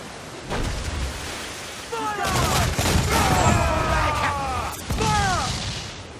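Naval cannon fire in Assassin's Creed IV Black Flag, heavy booming shots and crashing bursts at sea, several loud blasts in a row with whistling debris and shouting crew voices over them.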